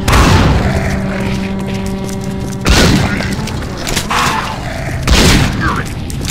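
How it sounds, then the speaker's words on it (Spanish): A grenade explodes in a zombie shooter game, a loud booming blast followed by further heavy thuds and rumbling, with someone talking over the action. "Ahí le tiro una granada"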